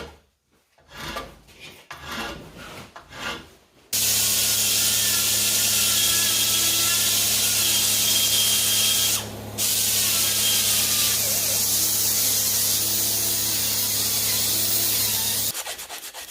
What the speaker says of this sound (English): I'm using sandpaper to round the edges slightly to match the rest of the part.